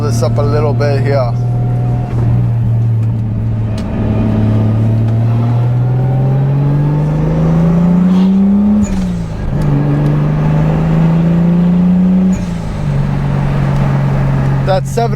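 A Toyota MK3 Supra Turbo with its 7M engine and stock turbo growls steadily from inside the cabin, its pitch climbing and dropping through gear changes as the car is driven, loud and continuous.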